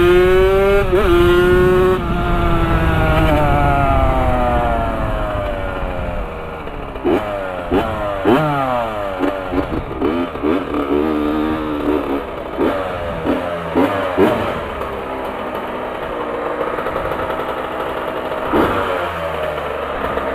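A Honda CR 80 two-stroke trail motorcycle engine revs loud and close, its pitch sweeping up and down in repeated sharp throttle blips, then settling into choppy idling bursts.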